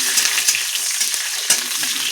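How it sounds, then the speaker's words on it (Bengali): Chopped onions fry in a pan for chicken kosha, a loud continuous sizzle broken by sharp, regular scrapes as a spoon stirs them. "পেঁয়াজটা ভাজা করে নেব লাল লাল করে।"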